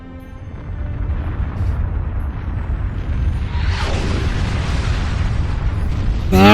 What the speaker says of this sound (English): Detonation's complete. The sphere is neutralized.